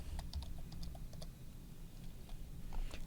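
Fingers typing on a computer keyboard during a library 3D modeling class, a quick run of light key clicks, close but quiet, over a steady low room hum with no talk.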